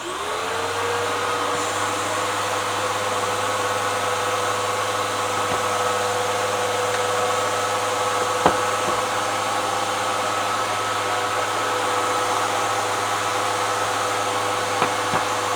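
A vacuum motor spins up at the start and then runs with a steady, even whine throughout, with a couple of faint knocks along the way, used for vacuum forming a 1:72 P-47 Thunderbolt model canopy.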